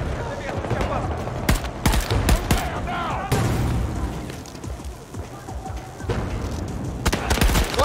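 Bursts of gunfire in the Battlefield 2042 shooter game, several separate sharp volleys and single cracks spread over the stretch, over a steady background of battlefield ambience.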